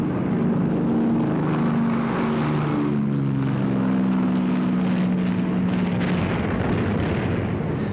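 Bomber aircraft engines drone during a wartime bombing run at 3,000 meters, a heavy continuous propeller roar with a wavering low tone that slowly dips in pitch, loud and steady throughout with no speech.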